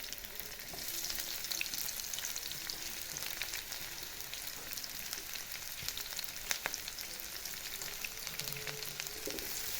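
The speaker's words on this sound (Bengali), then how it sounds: "তো তেলটা একটু গরম করে নিব, তারপরে হচ্ছে আমি এখন" Onions fry in hot organic mustard oil for a fish curry, giving a steady, dense sizzle with faint crackles and occasional stirring clinks, close and continuous throughout, with no voices.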